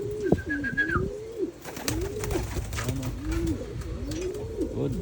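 Pet pigeons released for free flight coo repeatedly nearby, their soft rolling calls overlapping in a loose rhythm, with a sharp tap and some light rustling between them.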